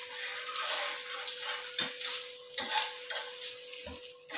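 Paratha frying in ghee on a hot pan gives a steady, bright sizzle, with a few soft scraping or pressing thumps as it is moved, close and fairly loud.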